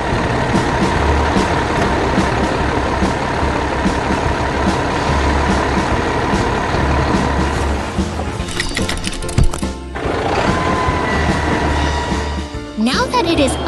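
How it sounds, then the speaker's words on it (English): An animated red tow truck's engine rumbles steadily as it arrives to upright a tipped truck cab, loud and continuous with clanking and mechanical noises near the end and speech-like sounds mixed in. "the red tow truck is here to help"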